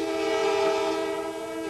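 A passenger train on a campaign trip through North Carolina gives a steady, sustained horn blast with a tonal drone, loud and close, heard alone.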